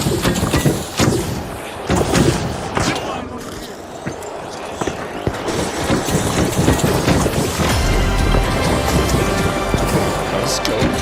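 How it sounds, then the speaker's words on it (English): Explosions and gunfire in the online shooter The Finals, with a grenade blast among dense, loud bursts and shots that pile up over continuous battle noise, while players talk over the fighting. "Grenade out!"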